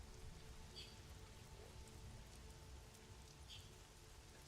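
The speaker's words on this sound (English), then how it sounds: "The rain slowly begins to worsen." Rain falls steadily on a surface at night, a soft, even patter with scattered drops standing out, faint and continuous throughout.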